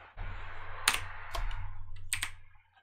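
A computer keyboard key is pressed while editing in Adobe Premiere, a few sharp close clicks over a steady low room hum with no voices.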